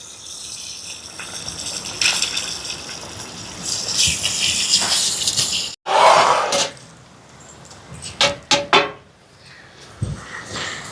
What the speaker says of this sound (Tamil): தண்ணி நல்லாவே கொதிச்சுட்டு பார்த்தீங்களா